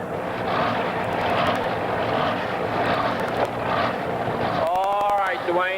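A loud, sustained engine roar from a pulling tractor named the Yellow Rose at a tractor pull in Teays Valley, droning steadily before a whining tone rises near the end.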